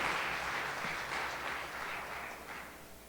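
Church congregation applauding during an evening worship service, a steady wash of clapping at moderate distance that fades slightly toward the end, with no voices standing out.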